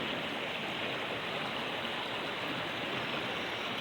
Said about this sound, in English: I don't know whether to call this a creek, a brook, a stream.